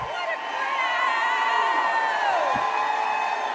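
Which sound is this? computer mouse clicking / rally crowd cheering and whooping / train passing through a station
rally crowd cheering and whooping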